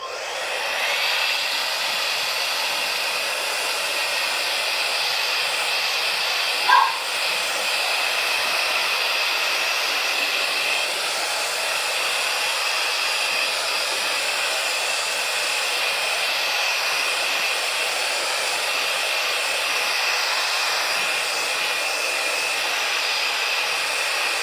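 A hair dryer runs continuously at steady volume for the whole stretch, drying a chalk paint transfer on canvas, a loud, even whooshing drone close by with no talking.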